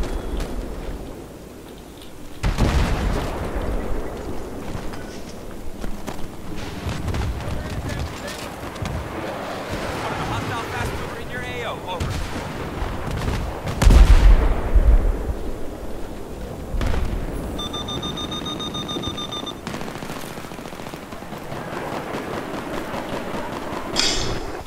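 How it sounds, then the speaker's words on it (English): Tank cannon fire and explosions on Kharg Island in Battlefield 3, heavy booms and thuds scattered through a constant battle rumble, with players talking over the action throughout. "There's a tank hitting Charlie, I think,"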